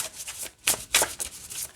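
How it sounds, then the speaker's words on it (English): An oracle card deck being shuffled by hand, a short run of soft papery riffles and rubs with a couple of sharper bursts, close and alone. "All right, shuffles great this way too."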